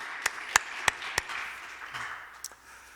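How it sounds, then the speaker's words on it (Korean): A church congregation at a revival meeting gives a few sharp, separate claps, about five distinct hits spaced across the first second, then a softer, scattered patter fading out, fairly faint and without speech. "우리 박수로 한번 격려해 드렸으면 좋겠습니다"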